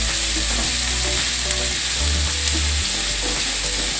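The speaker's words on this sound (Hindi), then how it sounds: "प्याज डाल के अच्छे से चला देंगे इनको, और अच्छे से इसको फ्राई करेंगे प्याज को" Sliced onions fry in a pan for a methi pyaj sabzi, a steady close sizzle broken by repeated scraping and stirring strokes of a spatula, with no talking.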